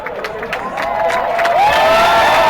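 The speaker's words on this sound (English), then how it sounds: "Crowd applauding the effort." A crowd at a quidditch match cheers and applauds, the noise swelling louder toward the end with scattered whoops, mixed with faint voices.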